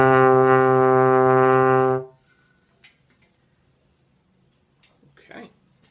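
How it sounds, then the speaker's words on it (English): A trombone sounds a sustained low D with the slide extended to sixth position, a steady harmonic-rich tone held for about two seconds before cutting off, followed by near silence with faint room noise. "but we move our slide all the way out till our arm is extended in position 6. And it sounds like this."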